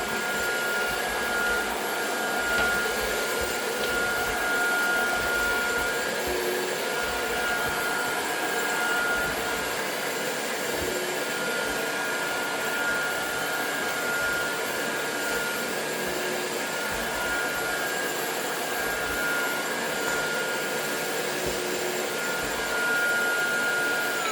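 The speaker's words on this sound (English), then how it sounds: "Like I said, wet and dry vac. All I gotta do is switch. Power mode." A wet and dry vacuum cleaner, the uwant D100, running in power mode, a steady loud whine and rushing airflow held close for the whole stretch with no talking.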